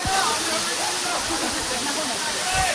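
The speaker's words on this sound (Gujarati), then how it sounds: "ભાઈ આપણે આવી ગયા જટાશંકરના ધોધે" The Jatashankar waterfall roars steadily during rain, a dense continuous rush of falling water that fills the scene.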